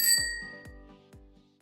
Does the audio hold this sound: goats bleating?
no